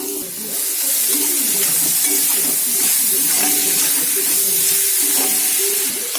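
Finely crumbled cauliflower sautéing in a pan, a continuous close sizzling hiss with soft scraping and stirring underneath.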